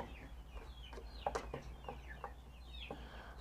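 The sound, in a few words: rooster clucking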